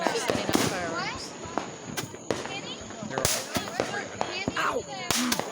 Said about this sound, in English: Our children are setting up fireworks.